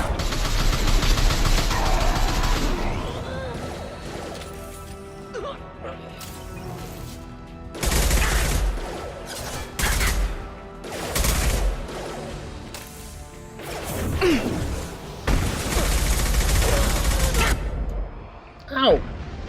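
Repeated bursts of gunfire and crashing impacts from shooting in Mass Effect 2, loud and intermittent with gaps between volleys, and a person speaking at times.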